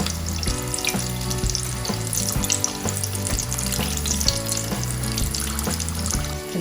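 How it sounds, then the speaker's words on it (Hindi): Spring rolls bubble and sizzle in hot oil in a steady, loud frying hiss that continues unbroken from start to finish, with no one talking. "देखिए अच्छे से ये फ्राई हो गए"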